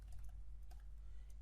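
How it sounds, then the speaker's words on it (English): Typing on a computer keyboard, soft scattered key clicks over a low hum, faint and close. "and here I'm just typing the downloads"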